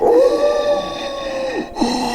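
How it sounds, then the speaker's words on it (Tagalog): Long, wavering howls rise and fall in pitch, like dogs howling, loud and close, ending with a brief break before another howl starts. "Kasabay ng alulungan ng mga aso."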